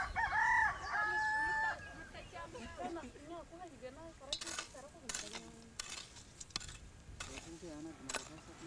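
A rooster crows loudly and clearly, then chickens cluck and scratch about in a field amid scattered clatter and rustling.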